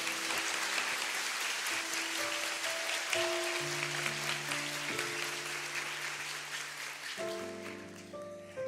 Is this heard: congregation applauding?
yes